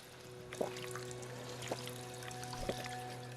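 Water being collected in Fallout 4, heard as three brief splashy pours at roughly one-second intervals over a steady low game hum.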